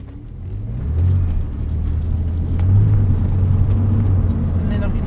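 Porsche 911 996.2 Tiptronic with a Dansk exhaust accelerating in drive as the automatic gearbox shifts up on its own: a steady, close, low engine drone that rises and swells, with brief pitch changes between gears.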